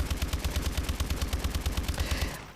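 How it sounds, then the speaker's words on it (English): A Pytaek LMG fires in a rapid, steady automatic burst in Call of Duty Exo Zombies, loud and close, ending abruptly after a couple of seconds with no talk. "I'm just trying to build up points here so we can upgrade our weapons using this Pytake"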